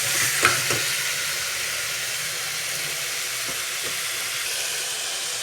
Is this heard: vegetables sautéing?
yes